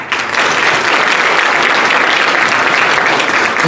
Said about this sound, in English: let's give a huge round of applause to our district leader, Mr. Riddick